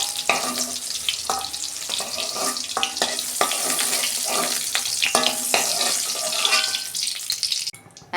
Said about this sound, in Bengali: পটলগুলো আর একটু লাল করে আমি ভাজবো।